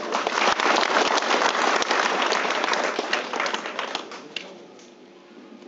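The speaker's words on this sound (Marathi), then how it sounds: "सर्वांच्या वतीने ह्या मल्टीस्पेशालिटीसाठी आपण एकदा जोरदार टाळ्या वाजवू" Loud, dense applause from an audience at the inauguration of a multispecialty hospital, steady for several seconds and then thinning out toward the end.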